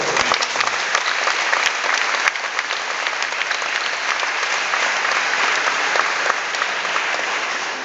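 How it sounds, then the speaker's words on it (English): Sustained, dense applause from a high school graduation audience, many hands clapping steadily at full volume for several seconds with no break. "Let's give a round of applause."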